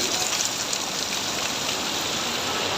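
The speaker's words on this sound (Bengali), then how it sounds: "সেই যে রাত থেকে শুরু হয়েছে বৃষ্টি এখনো অজোর ধারে হচ্ছে" Heavy rain pours down steadily in a dense, continuous hiss that stays loud and unbroken throughout, with no voices over it.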